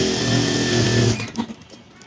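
An electric sewing machine stitching a girls' kameez runs in a close, steady mechanical whir for about a second, then stops abruptly, leaving a few faint handling clicks and rustles.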